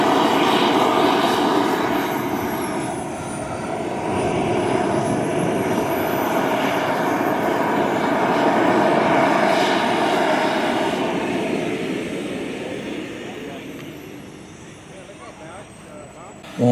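Radio-controlled model turbine jet running on turbine jet fuel, taxiing on the runway at a family fun-fly airshow; a steady loud jet whine and roar holds throughout, easing off toward the end, with voices talking over it.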